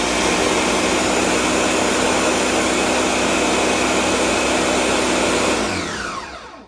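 A blender whirs steadily through a thick porridge at close range, a loud continuous motor roar that holds for several seconds before spinning down at the end.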